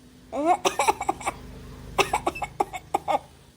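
A person coughing in two harsh bursts of several rapid coughs each, close and loud, with a brief pause between.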